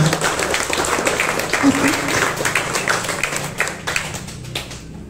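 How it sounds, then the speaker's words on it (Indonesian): A group claps for graduating Paskibra members at an Indonesian gathering, a full burst of hand clapping with sharp individual claps standing out, gradually thinning and fading toward the end. "Tepuk tangan dulu dong"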